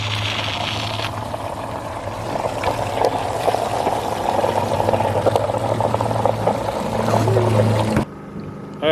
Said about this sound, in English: Alright, we got the water going, pumping in.